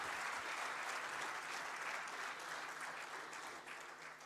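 An audience at an awards ceremony claps in a sustained, fairly distant wash of applause that fades slightly toward the end.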